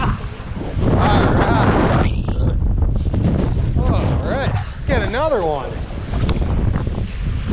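Strong wind gusts buffet the microphone in a loud, rough roar while a person bank fishing talks briefly over it.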